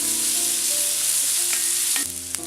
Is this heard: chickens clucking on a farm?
no